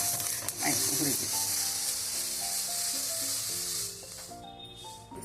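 Fenugreek seeds roast and sizzle in a pan while sambar powder is made, a steady frying hiss with stirring scrapes that carries through the whole stretch, fairly loud and close.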